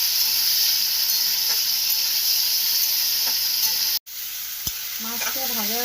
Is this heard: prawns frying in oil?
yes